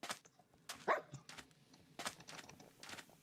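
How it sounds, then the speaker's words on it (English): Dogs in the Minecraft video game barking in short sharp yips and woofs, several separate bursts spread over a few seconds, fairly quiet with brief gaps between them. "let's unsit our dogs, and let's get them into the new house"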